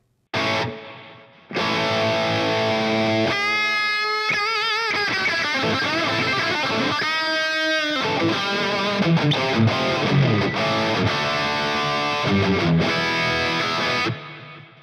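Electric guitar through a HOTONE Pulze Mini's plate reverb effect, playing chords and melodic lines drenched in bright reverb, with shimmering tails ringing out between notes, steady and fairly loud.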